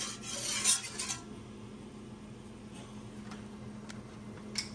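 A utensil scraping and clinking against a pan as flour is stirred and cooked, with a soft metallic rattle near the start and faint, steady stirring scrapes over a low hum after that.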